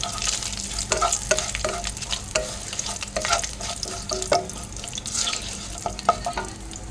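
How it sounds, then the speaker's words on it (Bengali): Whole garam masala, dried red chillies, bay leaf, cumin and asafoetida crackle in hot oil, with steady close sizzling and recurring stirring scrapes, no voices. "তেলের মধ্যে গোটা গরম মশলা, শুকনো লঙ্কা, তেজপাতা ফোড়নে দিয়ে দিলাম, জিরে দিয়ে দিলাম"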